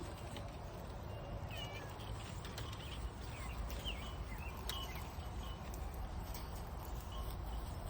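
Several cats meow in a grassy outdoor garden, short high calls scattered over a steady broadband background of outdoor noise, with occasional faint bird-like chirps.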